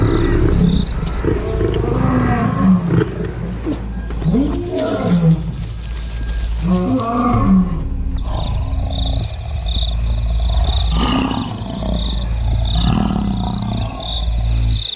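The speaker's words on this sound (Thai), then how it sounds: "ด้วยเสียงคำรามที่ดังก้องไป 8 กิโลเมตรทั่วที่ราบ" A lion roars on the open plains, a series of loud, deep, rumbling roars repeating over about fifteen seconds with faint insect chirps behind.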